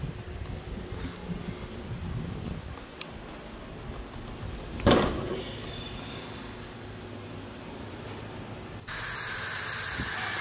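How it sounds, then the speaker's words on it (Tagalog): Pressure cooker hissing steadily while patatim (pork) boils, with a continuous broadband steam hiss that grows louder and harsher near the end, and a short clatter partway through. "At ayan, kumukulo na siya."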